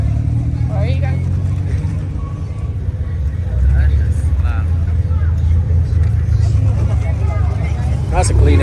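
Car engines rumble at a car meet with loud, steady low-frequency idling and a brief rise in volume partway through, while people talk throughout.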